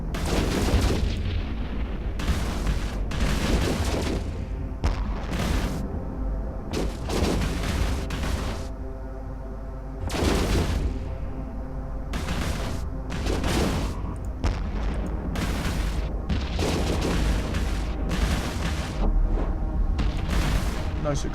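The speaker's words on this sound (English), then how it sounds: "Nice explosion." Repeated explosions in a space video game, a series of sharp booming blasts spaced irregularly over a humming engine-like drone, loud and close, with no talking.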